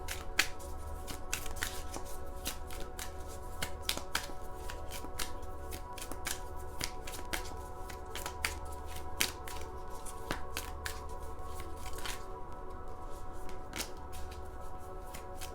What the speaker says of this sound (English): Let me pull out some more cards.